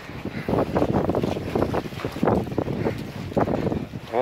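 A tour boat in the marina at Hurghada on the Red Sea, with steady engine and wind rumble and water noise filling the whole stretch, no voices heard.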